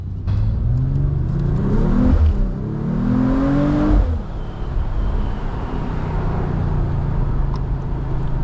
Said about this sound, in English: this has a real nice inline 6 exhaust sound to it